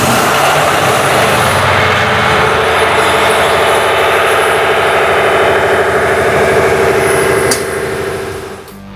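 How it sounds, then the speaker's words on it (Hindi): Large diesel engines drone steadily inside a submarine machinery compartment, a loud, constant low rumble with a dense mechanical whine above it, fading slightly at the very end. "ये हमारे बड़े बड़े इंजन्स हैं जिनसे बैटरीज चार्ज होती हैं"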